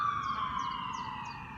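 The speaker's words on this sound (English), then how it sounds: "it's a bit noisy, some sirens passing" A siren wails steadily at moderate distance, its pitch sliding slightly downward as it passes, over a low rumble of traffic.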